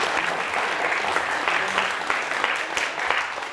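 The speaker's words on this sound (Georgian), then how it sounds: "აპლოდისმენტები მას" Audience applause for a contestant at a student quiz final, a dense, even round of clapping from a crowd, moderately loud and sustained throughout with no voices over it.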